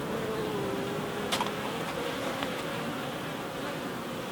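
Honeybees buzz densely in a steady, close hum, with a few brief sharper sounds briefly rising above the swarm.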